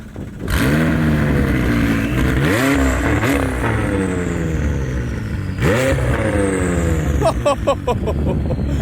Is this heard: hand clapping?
no